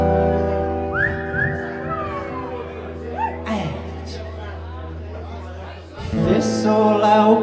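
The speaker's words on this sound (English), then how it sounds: "worry, give a whistle." Whistled melody during an acoustic live song performance, bright sliding whistle phrases over a sustained instrumental backing, with a brief dip before the music swells again near the end.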